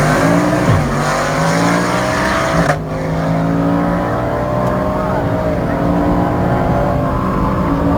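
A Ford Mustang of up to 800 horsepower running on E85 at a drag strip, its engine roaring loud and close as it accelerates hard, rising through the revs with a brief dip for a gear change, then pulling on steadily.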